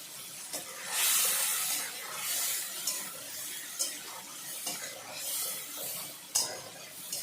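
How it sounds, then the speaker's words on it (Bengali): Tomato paste mixed with spices goes into a hot pan for a potato-cauliflower curry and hisses loudly, then settles into a quieter sizzle broken by occasional clicks and scrapes of stirring. "এর মধ্যে দিয়ে দিচ্ছি টমেটোর পেস্ট।"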